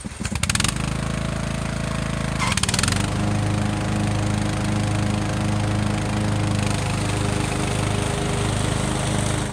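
A Craftsman LT2000 riding lawn mower runs with its blades engaged, a loud, steady engine drone close by with a couple of brief surges near the start, continuing alone without talk.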